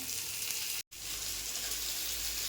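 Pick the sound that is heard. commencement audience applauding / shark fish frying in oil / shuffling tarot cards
shark fish frying in oil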